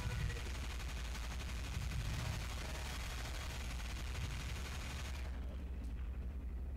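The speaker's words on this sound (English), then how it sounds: "Still gonna shoot it." Dense, continuous gunfire from the zombie shooter Left 4 Dead, a loud unbroken wash of rapid shots that runs the whole way through before thinning slightly near the end.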